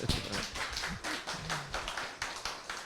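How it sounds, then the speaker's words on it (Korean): A Korean audience in Mokpo claps for the moderator of a talk event, a short burst of close, loose clapping with uneven rhythm over a low murmur. "우리 사회자분께서 많이 애쓰신 게 느껴져서 박수 한번 보내주시기 바랍니다"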